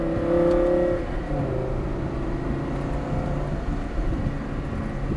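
Lamborghini Gallardo pulling away after an upshift, a smooth rising engine note swelling near and loud at first, then settling into a steady whirring drone as the car continues on track.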